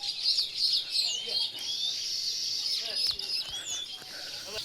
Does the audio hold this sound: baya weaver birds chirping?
yes